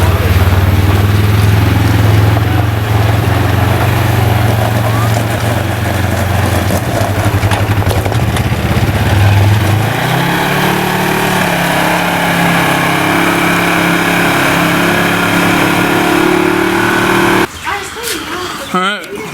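A Polaris RS1 side-by-side engine runs steadily on a test drive, a loud continuous drone that shifts pitch about halfway through as the throttle changes, with talk mixed in, before cutting off near the end.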